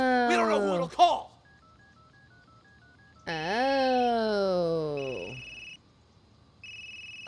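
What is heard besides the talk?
phone being dialed and ringing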